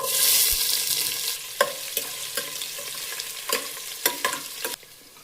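Onion and chili frying in a pan, a loud hiss as they go into hot oil, then a softer sizzle broken by a series of distinct spoon scrapes and clacks while stirring, no talking.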